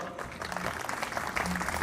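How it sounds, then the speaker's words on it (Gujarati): An audience at a religious Jain function applauds, a fairly quiet, continuous patter of clapping from a crowd. "દોસ્તો આને તાળીઓથી વધાવો."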